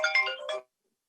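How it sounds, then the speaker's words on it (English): A phone ringtone sounds during a state House housing finance and policy committee meeting, a loud, bright, multi-note melodic burst lasting about half a second before cutting off to silence, with no talking over it. "These phone calls are a problem."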